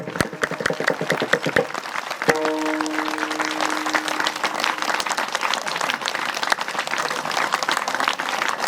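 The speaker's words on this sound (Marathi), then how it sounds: "असे धरून सांगतोय टाळ्या वाजवा" A crowd claps at a Hindu devotional gathering, a week-long Harinam Saptah held at Savedi village for Sant Tukaram Maharaj Beej. Sharp rhythmic claps come first, then the sound swells into dense, sustained applause.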